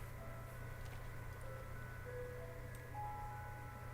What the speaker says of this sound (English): That that ice cream truck's pretty loud, huh?